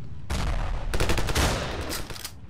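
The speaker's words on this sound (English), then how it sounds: "I have no idea where that enemy fire is coming from." Gunfire in the video game Ravenfield, a dense, loud volley of overlapping rapid shots that swells, then breaks off abruptly.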